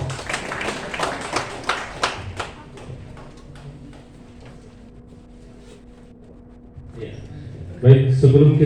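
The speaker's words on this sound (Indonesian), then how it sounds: "Kita beri aplaus buat bidang Kesmas 2024." An audience applauds the Kesmas (public health) division at a 2025 technical work meeting. Dense, lively clapping fills the first couple of seconds, then thins and fades into quieter room sound.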